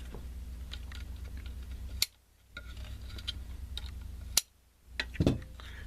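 Heavy shears snip off excess cone material during a JL Audio 12W6 or 10W6 subwoofer recone, giving a few short, sharp clicks over a steady low hum, with brief quiet gaps between cuts.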